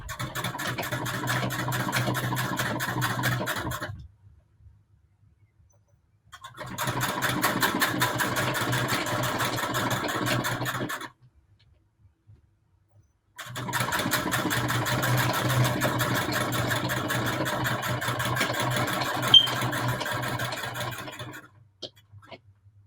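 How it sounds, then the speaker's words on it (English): A sewing machine stitches patchwork in three long steady runs of rapid mechanical whirring, each several seconds long, separated by quiet pauses, close and moderately quiet. "Anyway, sewing, which is a nice, calming,"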